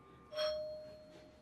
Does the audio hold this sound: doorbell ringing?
yes